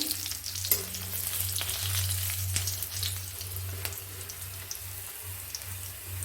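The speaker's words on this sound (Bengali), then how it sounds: "শুকনো লঙ্কাটা ফোড়ন দিয়ে দিলাম।" Dried red chillies sizzle steadily as they are tempered in hot oil for a Bengali mixed dal, with a continuous close frying hiss over a low hum and no talking.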